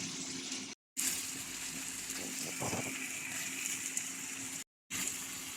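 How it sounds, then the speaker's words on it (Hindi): Chicken for a chicken tikka roll sizzles in a pan over a high flame, a continuous hissing crackle at moderate level, cut by two brief moments of silence. "हम 2-3 मिनट हाई फ्लेम पर चिकन को भून लेंगे"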